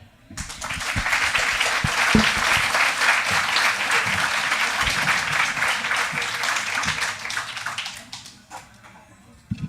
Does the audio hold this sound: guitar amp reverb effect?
no